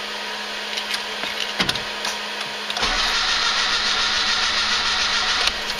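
A car engine running on LPG is cranked on a cold winter day and fails to catch, a few short starter bursts then a steady, loud churning whir that continues to the end.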